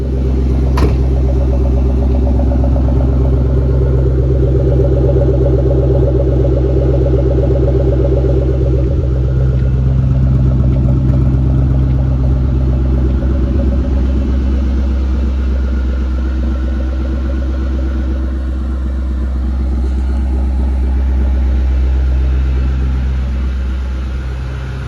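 A blue Ford Mustang Mach 1 rumbles with a deep, steady engine note close by, holding a low idle-like drone that swells slightly toward the end.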